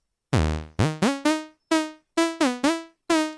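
A bright plucked synth lead made in Vital in the style of a pop song plays a melody of nine short, sharply decaying notes with even gaps and no voices.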